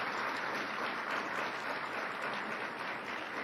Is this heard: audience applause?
yes